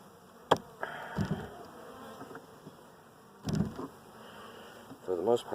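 Honey bees hum around an open hive being worked for queen rearing on a windy day, a continuous close buzz broken by a few sharp knocks and handling thuds, with a brief voice near the end.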